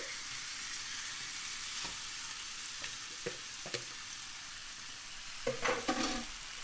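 Marinated beef for caldereta hisses and sizzles in a hot pot, a steady quiet fry broken by several scraping stirs and clatters near the end.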